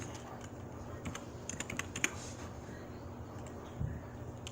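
Soft, distant key taps come from a computer keyboard on a PC in scattered short runs, faint beneath a constant hiss of background noise.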